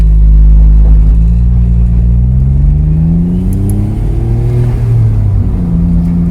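A 2004 Smart Roadster Brabus with a 700cc three-cylinder engine of 101 hp echoes loudly inside a tunnel. Its deep, booming drone rises and falls as it revs and accelerates, close and continuous.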